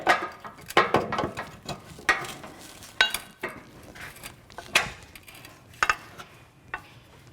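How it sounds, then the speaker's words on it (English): Metallic clicks, clanks and scraping as bolts are worked loose from the rear lower control arm of a 2007-2014 Cadillac Escalade, in irregular close-up bursts without talk. "Take the rear bolt out, and then take the front bolt out."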